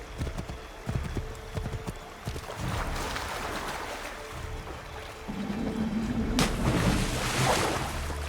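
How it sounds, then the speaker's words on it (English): Assassin's Creed III Remastered horse hooves clip-clop in a steady galloping rhythm, fairly faint, with other game sounds in the background. "Get back on the horse, Connor!"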